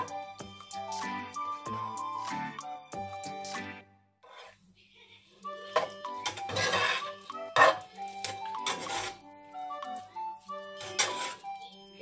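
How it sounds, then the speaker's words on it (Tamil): Lemon rice being gently stirred in a pan, a spoon scraping and clinking against the metal in soft, irregular strokes with brief pauses, close and fairly quiet. "ரைஸ் உடையாம மெதுவா எல்லாம் மிக்ஸ் பண்ணி விட்டுருவோம்"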